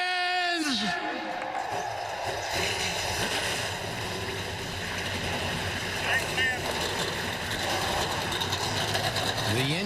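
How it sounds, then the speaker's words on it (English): NASCAR stock car engines fire up together at Daytona International Speedway, a dense rumbling roar under an announcer and crowd noise, with engines revving through. "The engines have fired."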